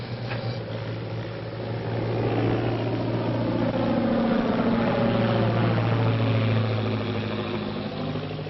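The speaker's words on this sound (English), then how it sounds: "We should be able to hear the motors." Airplane motors drone overhead in a steady, low, continuous hum that swells slightly midway and holds, with no voices over it.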